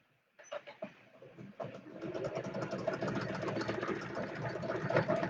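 A sewing machine starts up and stitches a patchwork quilt seam, its rapid mechanical chatter building to a steady run after a few hesitant bursts, close and moderately loud.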